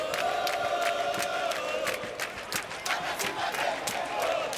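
Dense crowd of football fans roaring and cheering inside Maracanã Stadium in Rio de Janeiro, a steady loud wash of many voices with sharp claps and shouts rising throughout.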